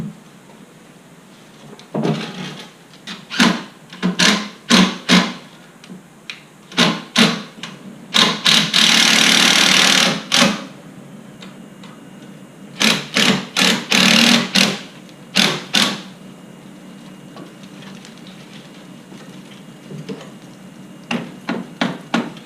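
A power drill driving 3-inch screws into 2x4 lumber while building a skate kicker ramp: repeated short bursts of drilling, one longer sustained run in the middle, loud and close, with no talk.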